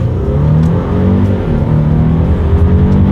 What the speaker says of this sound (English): let's test out the paddle shifters and see how quickly they react for us here.